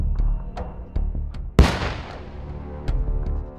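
A controlled detonation of found landmines and artillery shells during demining produces one sharp, heavy blast that rolls into a long fading rumble, with faint dull thuds around it and no talk.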